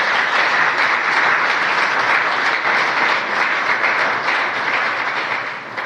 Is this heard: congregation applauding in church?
yes